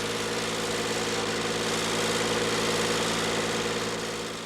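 Farm tractor engine running steadily during a wheat harvest in Turkey, a loud continuous diesel drone with a rhythmic low throb, close by and without talk.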